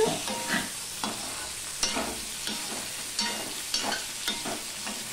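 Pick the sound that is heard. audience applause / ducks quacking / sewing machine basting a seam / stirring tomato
stirring tomato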